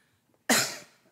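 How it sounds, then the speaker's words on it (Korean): A single close, sharp cough lingering after Covid bursts out and fades over about half a second, in a quiet church setting with no talk. "코로나는 다 나았는데 잔기침이 좀 계속 있네요"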